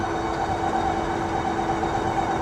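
A Euphree Cosmic Jay fat tire utility eBike cruising on throttle alone at about 31 to 32 mph, giving a steady, continuous motor whine over wind and tire roar with no talking.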